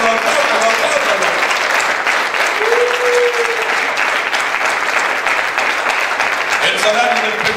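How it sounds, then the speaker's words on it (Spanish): A church congregation claps together for about eight seconds in dense, steady applause that fills the room, with a preacher's voice rising briefly over it near the middle and again at the end. "Aplauda al Señor Jesús, apláudalo"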